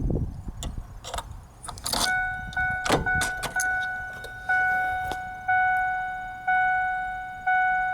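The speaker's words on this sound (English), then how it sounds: "Now that dinger's going off." A 1997-2004 Ford F150 key-in warning chime rings in a steady, evenly spaced series of clear electronic dings after a few clicks and key jangles at the start, close and loud with no talk.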